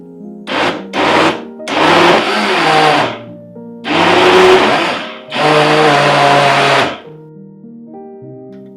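Countertop blender whirring through pineapple and ginger for juice, loud motor bursts that start and stop in several pulses, with steady blending runs between short pauses.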